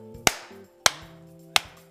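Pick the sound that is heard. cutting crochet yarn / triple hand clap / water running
triple hand clap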